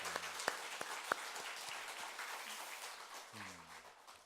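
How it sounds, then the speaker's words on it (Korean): Applause from a church congregation fills the room, a steady wash of many hands clapping, with a few louder claps standing out early before it gradually fades. "우리 모두가 다시 한번 감사의 박수를 한 번 더 드리도록 합시다."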